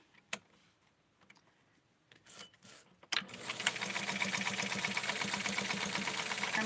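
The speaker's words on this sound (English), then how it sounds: "I'm sewing really close to the edge." Sewing machine stitching small doll clothes close to the fabric edge, a few soft clicks and handling noises, then a steady close whirring run of rapid stitching to the end.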